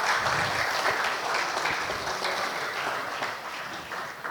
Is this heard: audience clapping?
yes